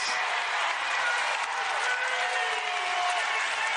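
A basketball arena crowd at a women's college game between Belmont and Iowa roars with steady cheering and applause, a loud continuous wash of sound without a break.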